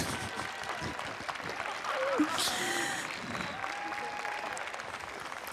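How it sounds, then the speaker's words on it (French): An audience applauds the jury coming on stage at the prize ceremony of a Toulouse game show, steady, moderately loud clapping that fills the room, with a voice speaking over it at times. "Je vous demande d'applaudir Mao, Livana, Cutie, Lady Sunday et Koneko."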